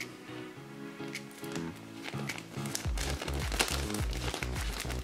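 Scissors cut open the packaging of a Panini Fantastic Beasts sticker album, giving crinkling plastic, snips and soft taps up close while music plays in the background.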